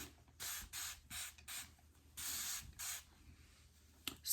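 A spray bottle wets a scalp in a series of short, close hissing bursts with brief pauses, one longer spray in the middle, and faint clicks between them.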